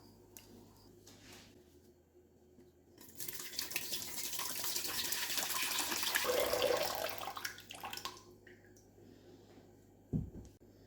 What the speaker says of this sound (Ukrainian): Зливаю воду назад у каструлю